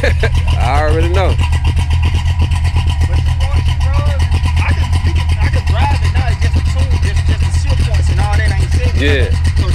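A tuned-up LS V8 in a 1979 Chevy Impala revs hard and loud at close range, its deep rumbling idle climbing into repeated throttle blips while people talk over it.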